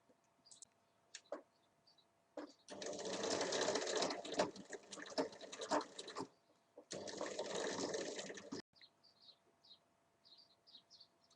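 A sewing machine stitches fabric to a zipper for a pouch, running in two steady, close whirring bursts of several seconds separated by a short pause, with faint chirps and taps before and after.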